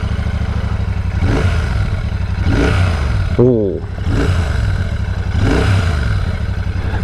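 A Royal Enfield Shotgun 650 twin-cylinder motorcycle engine revs in repeated loud surges over a steady idle rumble, with a brief voice exclamation in the middle.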